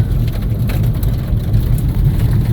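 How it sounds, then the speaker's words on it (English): Rain patters on a car while it drives, a dense hiss over the steady low rumble of the engine and tyres, loud and unbroken with no voices. "it's raining. Of course it's raining."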